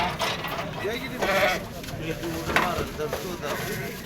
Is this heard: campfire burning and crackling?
no